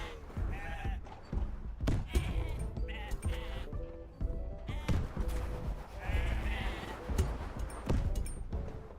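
Sheep bleat repeatedly in a strategy video game, mixed with thuds, clip-clop-like hoof sounds and busy game effects, with faint talk underneath.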